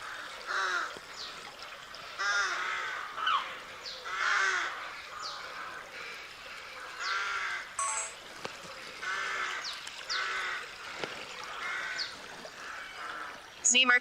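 Crows cawing outdoors in Denmark on a rainy day, a series of rough, repeated caws heard at moderate distance while someone talks over them.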